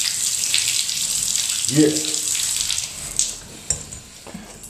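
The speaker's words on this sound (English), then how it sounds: "So the water's working up here too." Water runs from a tap inside a house as a continuous bright hiss, with a short spoken word near the middle and a few small knocks toward the end.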